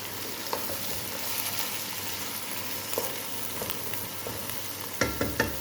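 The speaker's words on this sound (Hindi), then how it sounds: "अब इसमें शामिल करेंगे 1 किलो बोनलेस बीफ का गोश्त और इसे भी थोड़ा सा फ्राई कर लेंगे" Boneless beef pieces frying with onions in a pot give a steady close sizzle with faint stirring scrapes, ending in a few louder clanks of a spoon against the pot.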